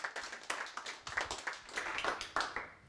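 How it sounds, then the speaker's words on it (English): Faint, brief round of clapping from a small audience at a panel event, thanking speaker Dan; the claps are irregular and sparse, heard from a distance. "can we have one big round of applause for Dan"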